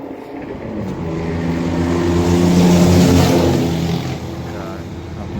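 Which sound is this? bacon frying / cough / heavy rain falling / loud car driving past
loud car driving past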